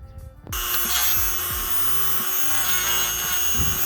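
A rotary tool with a stone bit chamfers edges while fitting a swim platform remote on a Yamaha jet boat. It starts abruptly with a loud, steady, high-pitched whine and grinding that rises and falls slightly as the bit works around the edge.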